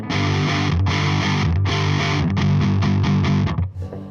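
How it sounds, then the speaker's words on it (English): A heavily distorted electric guitar chugs through a rapid run of loud, thick chords via an EarthQuaker Devices Gary pedal at high gain, close up, ending with a brief ringing tail. "Or I can pull the gain right up and hit like a distortion."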